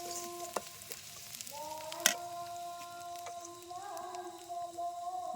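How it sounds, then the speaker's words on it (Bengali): Onions and chilies fry in a pan with a soft, steady sizzle, a few sharp clinks, and sustained tonal ringing layered over the hiss. "পেঁয়াজ ভাজি হচ্ছে"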